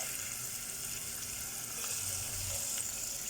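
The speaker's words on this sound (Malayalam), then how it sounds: "എണ്ണ നല്ല ചൂടായി വരുമ്പോൾ ചിക്കൻ ഓരോ പീസും അതിലേക്ക് ഇടുക" Chicken pieces frying in a pan of hot oil, giving a steady, close sizzle and crackle with light spattering throughout, and no voices.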